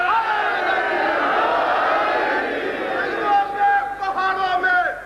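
A large crowd at a religious gathering roars a slogan back in unison, a dense sustained wall of massed voices close and loud, with shouts rising and breaking toward the end.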